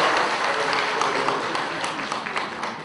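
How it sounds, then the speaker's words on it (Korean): Dense, steady applause from an audience at a Korean event, with many hands clapping continuously and loudly throughout, a broad wash of claps with no pauses. "박수 한번 주세요."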